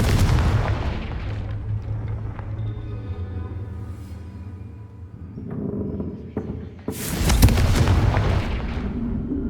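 A Confringo blasting spell explodes in the Hogwarts Legacy video game: rumbling in-game ambience gives way to a sharp, loud, booming blast near the end that trails off in a crackling decay.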